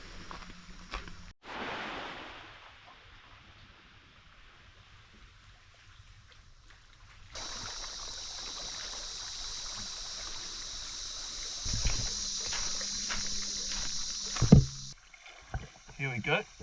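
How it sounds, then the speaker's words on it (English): A kayak is paddled on a crocodile lagoon in the Solomon Islands, with paddle strokes splashing and water swishing along the hull. Someone talks early on, and the water sound comes in later. "we'll go for a quick paddle, get some exercise"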